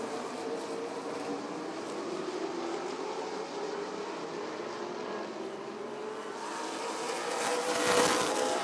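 Big 8 late model race cars roar around Rockford Speedway, a steady engine drone from the pack that swells as cars pass nearby toward the end, with no talking.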